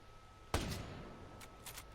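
One sniper rifle shot in Ghost Recon Breakpoint fires with a sharp crack and a brief decaying echo, then light mechanical clicks follow faintly, at low volume.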